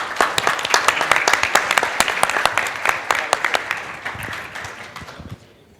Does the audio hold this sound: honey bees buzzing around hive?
no